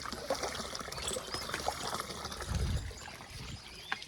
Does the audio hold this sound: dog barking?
no